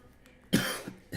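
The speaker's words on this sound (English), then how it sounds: "Excuse me, I just coughed again." A single sharp cough from a man, close to the microphone, followed by a short raspy tail and a faint throat sound at the very end, with no talking.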